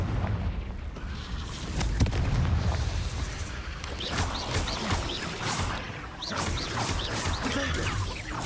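The Confringo fire curse in Hogwarts Legacy sets off fiery explosions: repeated booms and crashes over constant loud game noise, with sharp impacts scattered throughout.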